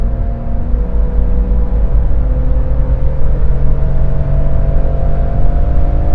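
A BMW X3 engine pulls hard on a highway, its deep rumble and rising whine climbing steadily through the gears under heavy road and wind noise inside the cabin.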